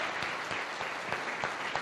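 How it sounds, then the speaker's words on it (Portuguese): Steady applause from a conference audience at a panel session, dense clapping throughout at an even level. "Uma salva de palmas para eles e para vocês que ficaram até agora"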